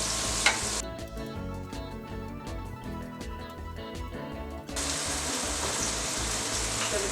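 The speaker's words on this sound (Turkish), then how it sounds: "Bir yemek kaşığı kadar yağımı ekleyip soğanımı ve havucumu aynı anda soteleyeceğim." Onions and carrots sautéing together in about a tablespoon of oil for a zucchini feta pasta, giving a steady close sizzle with stirring scrapes and no talk.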